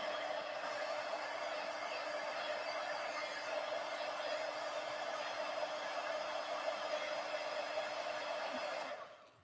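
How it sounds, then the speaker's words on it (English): A 25-year-old heat gun blows steadily with a constant whirring roar and fan hum, close and even throughout, then cuts off at the end as it is switched off. "my 25-year-old heat gun still going strong"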